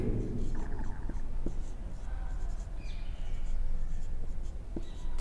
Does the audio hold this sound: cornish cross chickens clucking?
no